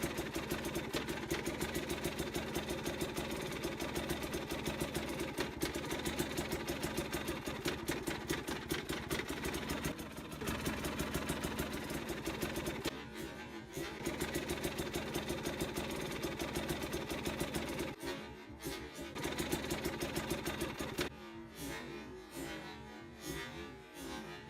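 A KTM TPI two-stroke motorcycle engine running at very low RPM, a steady rapid putter at idle with a few brief dips and stumbles toward the end, close and alone.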